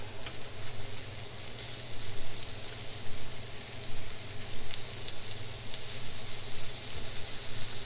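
Garlic frying in a pan with green beans and bacon gives a steady, close sizzle that holds evenly throughout, with faint crackles and pops over it.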